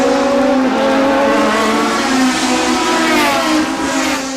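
Toyota Atlantic open-wheel race cars scream past the start-finish line at around 110 mph at the 1990 Toronto street race, a loud continuous high-revving engine roar with shifting pitch and no speech.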